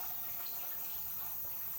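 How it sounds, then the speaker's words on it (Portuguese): Water is poured steadily to make coffee, a faint continuous splashing stream with no talking. "Terminar de botar essa água aqui no"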